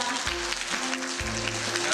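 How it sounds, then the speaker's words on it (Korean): A seated audience claps in welcome for a lecturer, a steady spread of applause that holds throughout under a low music bed. "조승연 강사님을 큰 박수로 환영해 주시기 바랍니다."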